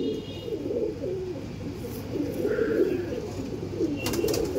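Several owl-face Madras pigeons of an old line coo in a low, steady rolling drone that runs throughout at close range, with faint chirps above and no talk.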